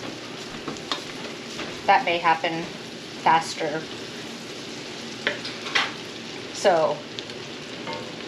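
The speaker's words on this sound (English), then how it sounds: "you're just looking for the onions to be translucent, just like anytime you're sauteing onions" Onions sauté in a pan on the stove for bacon jam, sizzling steadily with intermittent stirring scrapes and clatters, while a person speaks briefly over the cooking.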